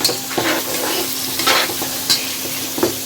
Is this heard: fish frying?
yes